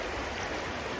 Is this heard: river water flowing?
yes